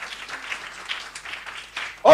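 A church congregation at a Sunday thanksgiving service claps together in a steady, fairly distant wash of applause, cut off at the end by a louder voice.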